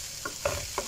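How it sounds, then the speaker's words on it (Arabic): Onions and shawarma meat fry in a large pan under a steady sizzle, with three short scraping stirs standing out close and loud. "والبصل والشاورما هم بيتحمروا مع بعضيهم"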